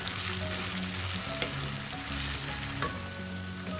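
Potato, carrot and beetroot stir fry sizzles steadily in a pan as it is stirred, with a constant hiss and occasional soft scraping knocks, close and continuous with no talking.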